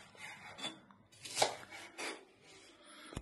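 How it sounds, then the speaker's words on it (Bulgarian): Apples being cut into small pieces, roughly 2 cm cubes, for homemade organic apple cider vinegar; a series of close, irregular knife chops and rubbing scrapes with no talk. "Така, и ги раздробяваме на малки парчета, долу-горе около на 2 на 2 см."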